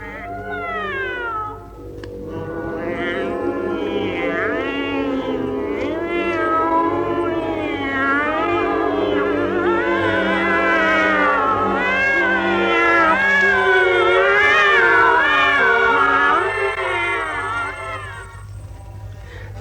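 Trained opera singers imitate cats in a duet from Ravel's opera L'Enfant et les Sortilèges, voices sliding and wailing in meow-like swoops over orchestral accompaniment, sustained and loud for the whole stretch.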